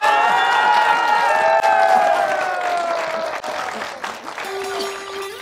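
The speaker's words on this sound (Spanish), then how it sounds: "que suene ese aplauso" An audience applauds and cheers at a community event for Rosas y Café in La Plata, Huila. Steady clapping fills the scene with crowd noise, while loud sustained tones ring over the top before the applause thins near the end.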